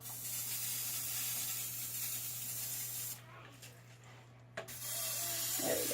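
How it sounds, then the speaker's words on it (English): Pam Grill high-heat cooking spray hissing from an aerosol can onto a barbecue grill in a steady spray, with a brief pause and a short burst near the end. "Guys, so this is the grill spray I use, Pam Grill."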